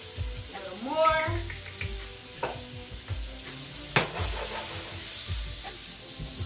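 Garlic sizzles in a hot pan, a steady close hiss with stirring knocks and scrapes, while a voice briefly talks over it near the start.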